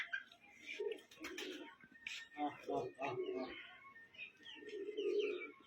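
Pigeons kept for aerial tumbling, including a white one, coo in low, soft, rolling calls. The coos sit close by, with brief chirps and a voice murmuring in the background.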